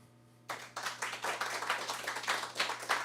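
Audience clapping and cheering at a live roadhouse radio concert as a vote by applause for a song, starting abruptly after a quiet moment and holding steady and loud with dense, irregular claps.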